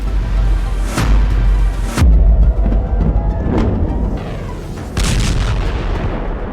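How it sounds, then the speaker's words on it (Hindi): Iranian missiles striking Tel Aviv and Haifa, heavy booming blasts landing about a second apart with a deep low rumble rolling between the impacts. "तेल अवीव और हाइफा में गिरती हुई ईरान की मिसाइल देखिए।"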